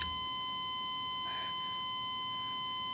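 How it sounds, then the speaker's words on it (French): An alarm goes off during a Black Mirror episode, heard as a steady electronic tone with brief swelling pulses, moderately loud and alone without talk. "Il y a une alarme qui s'est déclenchée."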